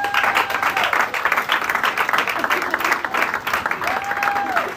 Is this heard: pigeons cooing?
no